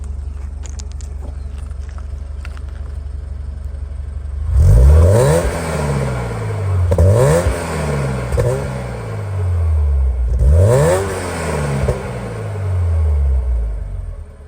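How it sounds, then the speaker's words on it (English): Supercharged 2017 Subaru BRZ with a cold air intake, revved in three sharp bursts after a steady idle, each rising and falling with a high supercharger whine and loud induction roar, close and without talk. "Hear the supercharger whining as well as all the induction noise from that cold air intake."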